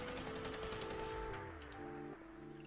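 Tesla weapon in a video game firing continuously after a mag glitch, a dense rapid electric crackle with sustained tonal hum layered over it, loud and steady before easing slightly near the end.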